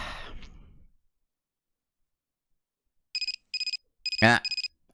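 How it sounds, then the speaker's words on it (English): An alarm clock rings in the video game If My Heart Had Wings, sounding as a series of short, evenly spaced electronic beeps after a brief sigh and a pause of silence, with a louder chime-like burst among the beeps. "If the alarm clock strikes, it's time to end the episode"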